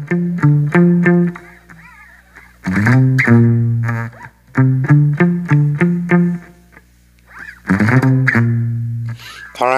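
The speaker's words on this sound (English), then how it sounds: "that little stock line, that little riff" A guitar plays a riff, loud, close, choppy repeated phrases with brief breaks between them, and no talking.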